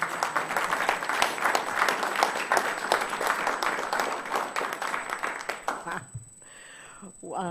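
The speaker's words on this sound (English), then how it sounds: "So, little round of applause for Ken Rich." A council meeting audience gives a round of applause, a lively crowd of individual claps pattering steadily for about six seconds, then fading out as a person begins speaking.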